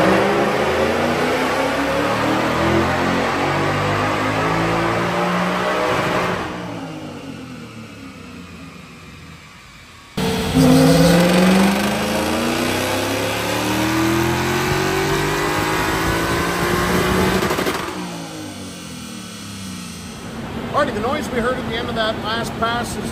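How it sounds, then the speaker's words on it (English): A Whipple-supercharged Ford Mustang with a Coyote V8 screams on a dyno, its revs sweeping up and bouncing hard against the rev limiter in two loud pulls separated by a brief lull. "this engine coming up against a rev limiter"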